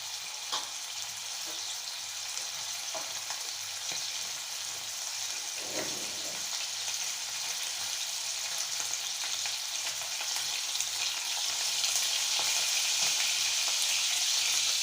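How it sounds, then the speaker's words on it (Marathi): Steady, dense sizzle of Bombay duck fish frying in hot oil with turmeric, crackling continuously for the whole stretch with no voices. "तर सगळ्यात आधी मी तेलात बोंबील टाकले आणि यात थोडी हळद टाकायची"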